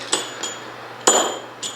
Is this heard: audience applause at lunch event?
no